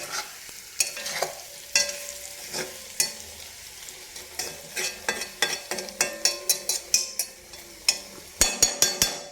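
Potato fry frying and being stirred in an iron kadai, with a steady sizzle broken by frequent sharp scrapes and clinks of a spoon against the metal, growing busier and more rapid toward the end.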